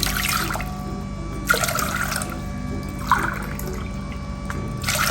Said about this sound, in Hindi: तो मैं तकरीबन इसमें 4 कप पानी डाल रही हूँ।